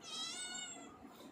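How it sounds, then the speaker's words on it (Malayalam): A cat cries outside the house, a single drawn-out meow that is fairly faint and heard alone. "പൂച്ച പുറത്തൊന്നും കരയുന്നു"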